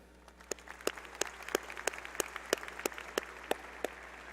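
Audience applause at a graduation ceremony: a steady wash of many hands clapping, with sharp individual claps popping out at a roughly regular pace, moderately distant in a large hall, no talking.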